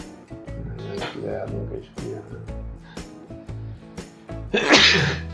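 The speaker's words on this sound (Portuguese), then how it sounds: "Que tu olhar pra luz, tu espirra mais fácil." A single sneeze bursts out near the end, loud and close, after a few seconds of quieter background sounds and faint vocal noises.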